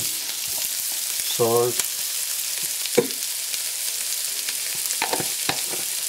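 Potato filling is stirred and fried in a frying pan: a constant sizzling hiss with occasional scraping clicks of a spatula. A voice speaks briefly.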